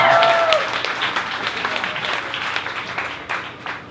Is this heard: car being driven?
no